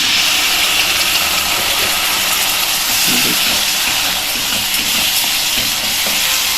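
Tomato puree hitting a hot pan of frying coconut for a ridge gourd curry, giving a steady loud broadband sizzle and hiss throughout with faint stirring clatter underneath.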